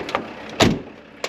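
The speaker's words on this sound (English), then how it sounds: "closing the door" A vehicle door on a road-works truck swings shut with one solid thud, preceded and followed by faint clicks and rattles, close and otherwise quiet.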